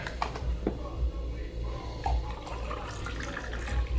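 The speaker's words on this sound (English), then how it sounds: "I'm gonna pour myself some more tea" Sweet tea from a Popeyes bag is poured into a cup, giving a soft, steady trickle of liquid over low background noise for a few seconds.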